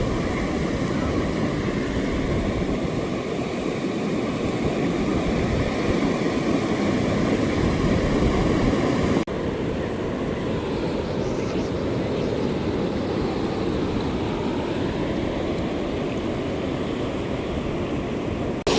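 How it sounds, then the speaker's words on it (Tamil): Floodwater gushing over the overflow of Akkarayan village tank in the Vanni region during a flood, a steady, loud, continuous roar of rushing water close by, with wind buffeting throughout. "அந்தளவுக்கு தண்ணி பாயுது."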